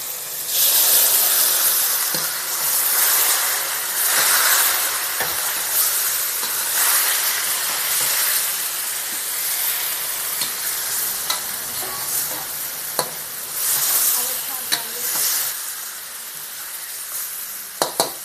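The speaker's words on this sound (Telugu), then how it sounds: "ఇప్పుడు చేప ముక్కల్ని దీంట్లో వేసుకుందాం." Fish pieces for fish curry fry in hot oil in a pan with a loud, continuous sizzle and hiss, broken by occasional clicks and scrapes from stirring, close up.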